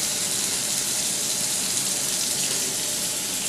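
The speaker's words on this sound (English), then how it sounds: "I'm running it under the water, and I'm using the Lego board to kind of scrub the brush on" Tap water runs steadily over a makeup brush being scrubbed on a textured cleaning board at a sink, a close, constant splashing hiss with no voices.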